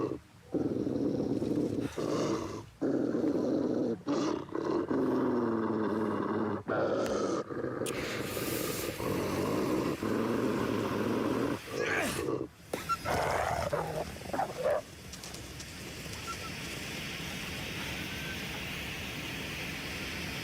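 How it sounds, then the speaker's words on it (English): Angry dogs growl and snarl in The Long Dark video game, a series of loud, rough growls broken by short gaps, then fading into a quieter windy background. "Some angry dogs somewhere."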